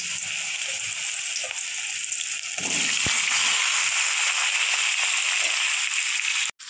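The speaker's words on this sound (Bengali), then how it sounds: "ফোড়নটা ভাজা হয়ে গিয়েছে আমার, এবার দিয়ে দেবো কুমড়ো আর আলু।" Pumpkin and potato pieces drop into hot oil spiced with five-spice seeds, dried chilli and bay leaf, setting off a loud, sustained sizzle with a few clatters of stirring, close up and without talk.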